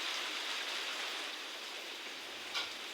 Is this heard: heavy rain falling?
yes